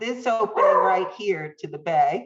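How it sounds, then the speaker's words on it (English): A household dog barks a few times in the background while people keep talking over it, the yips partly buried under the conversation. "Sorry about the dog. It sounds like that was a supportive bark"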